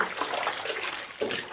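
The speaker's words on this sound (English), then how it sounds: "go over the floor twice and rinse the mop out before the second round." Water sloshes and splashes in a bucket of diluted Pinalen 2X concentrated pine cleaner while a floor is being mopped, a steady close wet swishing that swells again near the end, with no talk.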